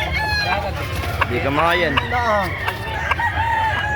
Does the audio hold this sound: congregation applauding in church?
no